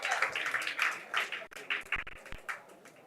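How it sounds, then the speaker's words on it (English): Audience applause for a panelist at a sustainability dialogue, distinct individual claps in an uneven rhythm, moderately loud and close, with a few low thumps partway through. "Give a round of applause to our first panelist."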